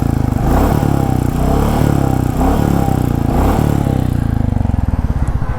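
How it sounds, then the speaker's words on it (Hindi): Royal Enfield Bullet 350 Battalion Black engine held at top speed, a loud close steady thrum with a rapid mechanical tappet clatter running through it, no talking. "उसी में इसका जो टैपेड वाला साउंड है ये आ गया"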